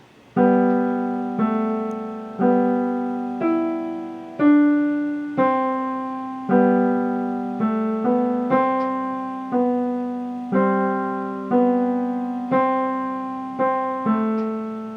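A keyboard plays the second line of Bach's Musette, a steady melodic line with a lower accompaniment, notes struck in a regular even rhythm, clear and close with no voices.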